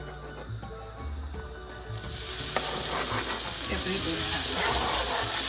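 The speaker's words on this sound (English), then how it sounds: "Ethan is going to add our onion, our garlic, and our pepper" Onion, garlic and pepper tipped into a hot pot for Trinidad stewed fish set off a sudden loud, steady sizzle and hiss that runs on continuously after a quieter stretch of kitchen noise.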